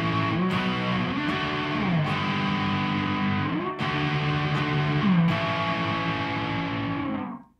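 Distorted electric guitar strums barre chords in a progression that shifts position up and down the neck, layered and effect-heavy with chorus-like shimmer, loud and continuous before ringing out at the end.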